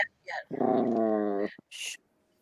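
A puppy lets out a drawn-out, moaning groan lasting about a second, close and fairly loud, with brief softer vocal sounds just before and after.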